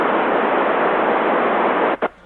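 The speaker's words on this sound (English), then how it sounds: "This is white noise." Loud, steady hiss of radio white noise from an amateur radio contact with the International Space Station fills the whole stretch, then cuts out briefly in two quick dropouts near the end.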